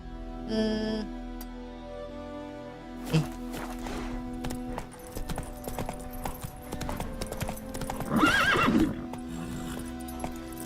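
The horse Roach from The Witcher 3 neighs and whinnies loudly near the start, then its hooves clip-clop in a steady run close by, alone with no speech.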